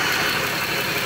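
A newly installed 3.6 V6 Pentastar engine runs, giving a steady, fairly loud mechanical hum and broadband whir with no pauses or talking over the brief stretch.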